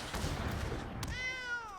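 A card-casting effect for Scythe Cat in the MTG Arena video game, a dense burst of layered digital noise followed by a rising, meow-like tonal sweep, played alone at moderate volume.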